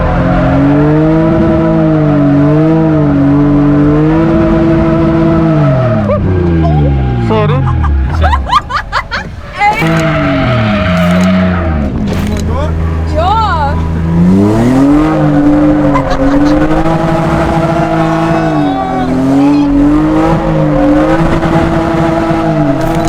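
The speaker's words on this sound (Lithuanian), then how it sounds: "Aš jau driftinau vietoj." A car is drifting, its loud engine revving up and down in long sweeping surges with tire squeal mixed in, while people talk and laugh over it.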